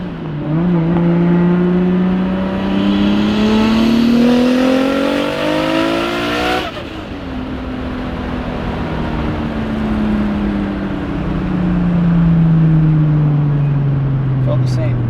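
An 800 HP Toyota Supra engine revs hard during a tuning session, pitch climbing steadily, dropping abruptly on a shift, then winding back down in a long falling tone, loud and close.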